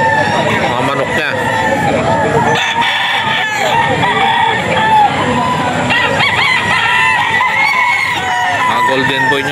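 Many chickens and roosters on a Philippine farm where farm-breed hens are raised, crowing and clucking together in a dense, continuous din, with someone talking over the birds throughout.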